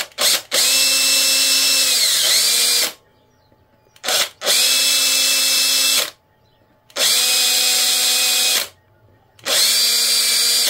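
A power drill with a 2.5mm bit runs in four loud bursts separated by short silences, its pitch dipping as it bites into material, close up.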